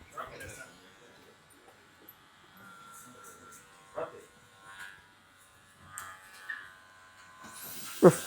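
Electric hair clippers buzz faintly and on and off while a fade haircut is refined, with brief louder bursts and soft handling sounds between quiet gaps.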